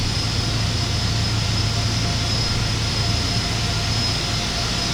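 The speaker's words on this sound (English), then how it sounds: "So here we see the aircraft starting the right turn." Steady, loud roar of airliner jet engines during a flight-simulator approach to Hong Kong's Kai Tak airport, a constant whine over a broad rumble with no pauses.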